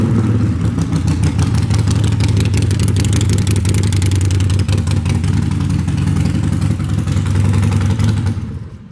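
A 2015 Harley-Davidson XL1200V Sportster 72 with loud pipes rumbles close by, a deep, throbbing V-twin engine note held steady and loud for about eight seconds before cutting off at the end.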